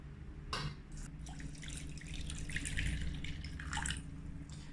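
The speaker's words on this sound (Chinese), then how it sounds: "然后倒在锅里面， 加上适量的水" Water is poured into a pot of rinsed quinoa, making a faint, soft trickling and splashing with a few small drip-like bursts over a quiet background.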